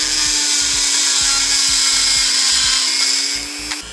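A power drill with a cutting bit bores out and widens a bolt hole on a Ford F150 Lightning truck, worked by hand without a vise; a steady loud high whine runs throughout, with a regular low thumping pulse and no talk.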